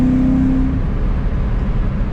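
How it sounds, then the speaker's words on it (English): A supercharged BMW E90 M3 runs loud and close, its engine roaring under a strong supercharger whine that starts out steady and high, then gives way to a rough, rumbling drive with no talking. "The supercharger's so loud."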